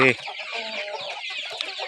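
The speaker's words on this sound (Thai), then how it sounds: "ให้อาหารไก่ไปก่อน" Chickens being fed after work, Burmese game-fowl breeds, cluck close by in quick, overlapping bursts, with a louder squawk at the start and a soft murmur of voices underneath.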